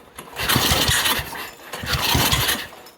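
A John Deere 110 lawn tractor with a swapped 8hp engine running rough: a loud, close, sputtering roar that surges and dips in two waves, uneven and labored.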